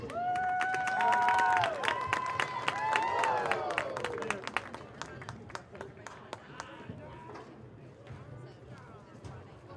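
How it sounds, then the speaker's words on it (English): At a high school football game between Nitro and Greenbrier East in West Virginia, a crowd gives the seniors a round of applause, with scattered claps and a few cheers coming through under a loud announcer's voice. "let's give these 3 seniors a big round of applause"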